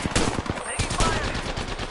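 Rapid automatic gunfire crackles through a video game shooter firefight, dense overlapping bursts with sharp reports continuing steadily throughout, loud and close with a busy battle background.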